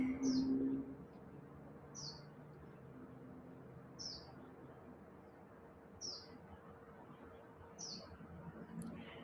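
A single bird chirps in short bursts every two seconds or so, five calls in a row, over a quiet outdoor hum.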